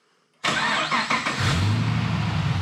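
A Holden Commodore VE SS ute engine with an X-Force exhaust cranks briefly and catches, then settles into a loud, steady idle close by.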